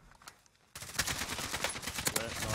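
Rapid automatic gunfire erupts in Call of Duty Warzone, with dense bursts of close shots after a quiet start.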